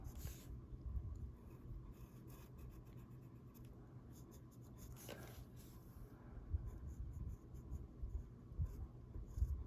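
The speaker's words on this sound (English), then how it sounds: "it's definitely getting blacker with the pencil" A pencil scratches across paper while coloring in the darks of a flowers and feathers coloring page, a steady close rasp of short repeated strokes.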